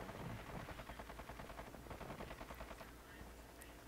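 Gunfire in Call of Duty Warzone, a dense rapid burst of automatic shots rattling steadily throughout, fairly faint and even in level, with no talk over it.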